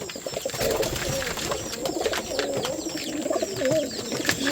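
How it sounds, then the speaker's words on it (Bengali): Rajshahi Giribaz pigeons coo close by on a pigeon farm, several birds overlapping in soft, rolling, repeated coos that continue throughout without speech. "অনেক সুন্দর সুন্দর কবুতর আছে খামারে"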